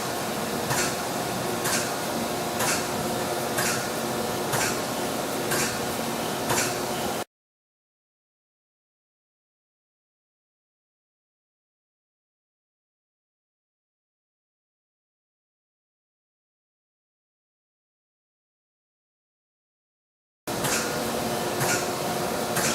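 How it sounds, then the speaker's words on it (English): A Chevalier AD III series surface grinder with an auto dresser grinds steadily, giving a continuous hum with evenly spaced rhythmic swishes from the table's passes. It runs in two stretches separated by a long gap of silence. "And now we're right back to grinding."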